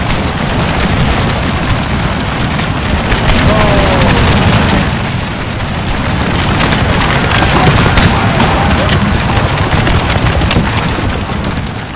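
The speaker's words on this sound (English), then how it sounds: "Oh, you're about to open fire." Musket volley fire in Napoleon Total War during an American Civil War battle at Shiloh, heard as a dense, continuous rumble of booming shots and crackle that stays loud throughout, with battle noise filling the whole stretch.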